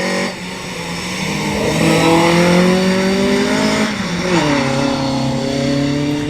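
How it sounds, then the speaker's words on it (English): Ford Cortina Mark 1 historic rally car drifting across a skid pan, its engine droning and rising in pitch, dipping at a mid-drift gear change then climbing again, loud and close with faint tyre noise beneath. "Here comes the Mark 1 Cortina."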